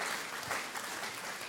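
Audience applause after a medical talk at a European polio congress in Nancy, a dense steady patter of many hands clapping continuously at moderate level throughout.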